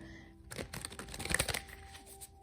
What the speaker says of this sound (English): I'm gonna shuffle them on camera